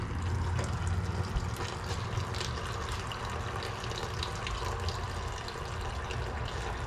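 Old, worn-out fluid drains from a rear differential during a service, a steady continuous pouring and splashing that runs unbroken and fairly loud for the whole stretch, with no talking.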